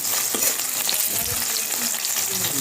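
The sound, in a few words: frying onions until brown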